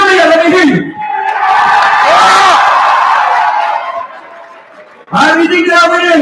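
A live audience erupts in loud screaming and cheering to vote for a contestant, a sustained roar of shouts and whoops that fades near the end before a host's voice cuts back in over it.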